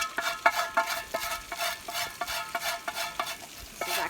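Shrimp sizzle in a pot at a backcountry campsite while a utensil stirs and scrapes in a quick repeated rhythm, close and clear, with no talking.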